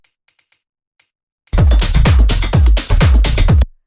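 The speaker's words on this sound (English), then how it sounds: "Then we just have this little tambourine," A short tambourine figure jingles alone at first, then a full minimal tech house groove kicks in with the tambourine over a shaker loop and booming kick drums, loud and driving before cutting off.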